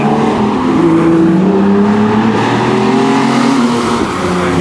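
Jaguar XJS race cars at Mallory Park roar past at full racing pitch, a loud continuous engine note with rising and falling harmonics as several cars accelerate through close together.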